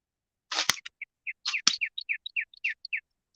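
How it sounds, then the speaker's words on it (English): A bird calls in the woods during a morel mushroom search, giving a quick series of short, bright chirps and whistled notes, fairly close and clear, with no talking over them. "I hear the bird."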